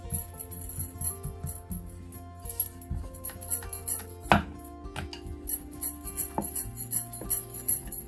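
Wheat flour dough balls being patted flat by hand for chicken and vegetable wraps, a steady run of soft rhythmic pats with occasional clinks of utensils, close up and moderately loud, no talking.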